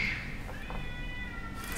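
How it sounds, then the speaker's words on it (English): Cats fighting just outside a window let out a brief, strained yowl, a wavering meow-like cry that stays fairly faint and distant. "it literally just sounded like a cat just murdered another cat, like right outside the window"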